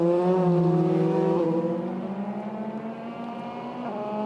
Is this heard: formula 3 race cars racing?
yes